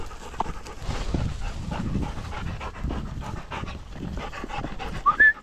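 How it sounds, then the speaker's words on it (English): Several dogs on a countryside walk near a castle pant steadily up close, with brief whimpers and a sharp high squeak near the end. "And all the doggies."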